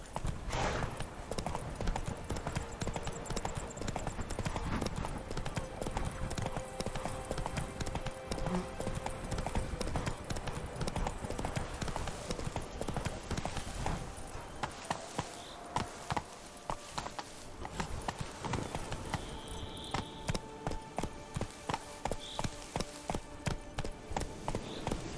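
Roach, a horse in the game Witcher 3, clip-clops along in steady hoofbeats for the whole stretch, close and continuous, with a brief whinny and some ambient game sound mixed in.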